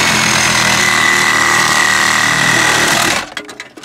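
A brushless reciprocating saw cuts through the metal roof of a vehicle, a loud, steady, buzzing rasp for about three seconds that then stops, leaving a few faint clanks.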